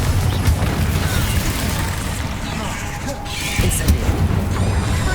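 A Confringo blasting spell explodes in the Hogwarts Legacy video game, a deep rumbling boom with crackling debris. A broad low roar persists throughout and swells again near the end.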